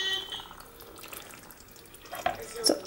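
Hot water is poured over oil, tomato paste and salt in a pot, a soft trickling, splashing stream with a few sharper splashes near the end, fairly close and quiet.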